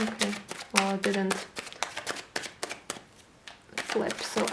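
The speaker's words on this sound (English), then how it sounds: "so I will keep shuffling" Playing cards are shuffled in quick riffling bursts, interrupted by a person speaking in between.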